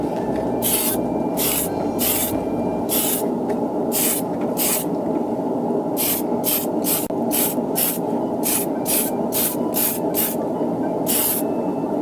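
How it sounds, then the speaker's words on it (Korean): Short bursts of spray paint hiss repeatedly over a constant loud ventilation fan roar while a plastic model kit is being painted, the sprays coming in quick irregular puffs. "스프레이는 이제 공기를 빨아들이는 환기구 쪽으로 해서 뿌려주시면 좋겠습니다."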